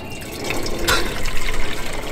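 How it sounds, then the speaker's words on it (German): Pre-heated water poured for a water bath to heat a German army field ration, a close splashing gush with a sharp clatter midway, no talking. "Im Wasserbad machen wir das jetzt. Wir haben ja noch ein bisschen vorgeheiztes Wasser."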